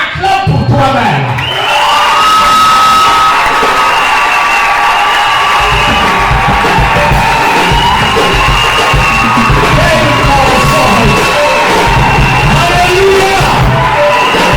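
A packed church congregation cheers loudly, yelling, whooping and applauding in a sustained roar that rises quickly after a brief voice and stays dense and close throughout.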